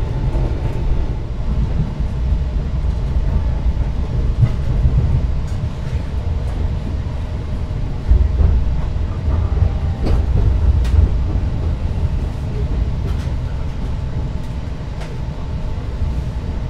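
Taksaka Tambahan passenger train in Indonesia arrives at a station, a loud, steady rumble of rolling wheels with faint clicks on the rails throughout and no talk.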